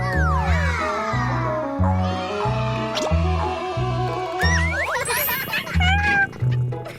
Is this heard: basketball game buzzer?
no